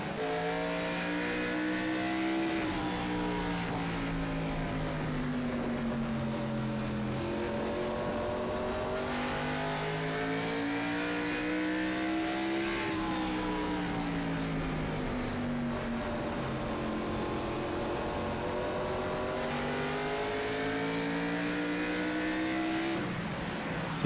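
A stock car engine under throttle at North Wilkesboro in a racing video game, a continuous loud droning roar whose pitch repeatedly climbs and dips as the driver works the throttle through the corners, with no voices.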